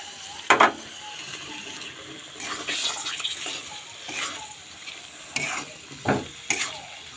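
Chicken pieces frying with sour yogurt in a pot for a first homemade biryani, a steady close sizzle broken by several loud spoon scrapes and stirring clunks, with no talk over it.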